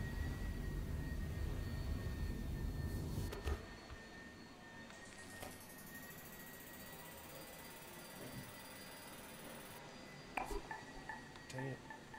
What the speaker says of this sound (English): Sorry about the vacuum noise in the background.